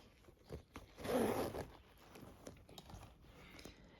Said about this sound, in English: just like this bag is with a zipper, has a zipper fastening as you can see